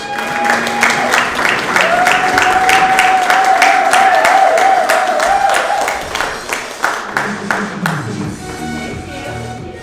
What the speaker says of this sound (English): One more round of applause for Annalisa Ryan.